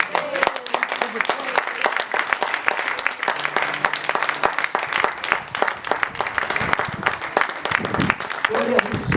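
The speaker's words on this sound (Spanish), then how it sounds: "Denle un fuerte aplauso al Señor." Church congregation giving loud applause to the Lord at a Spanish-language evangelist's service, dense rapid clapping from many hands close by, sustained throughout with some voices mixed in.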